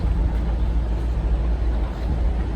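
A restored 1953 Cadillac Series 62 convertible engine, fitted with resonators and mufflers, idles quietly with a steady, even low rumble close by and no talking.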